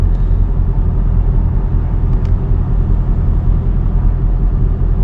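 A Ford Mustang S550 pulling away gently on a street, with a steady, deep engine rumble that stays close and even throughout.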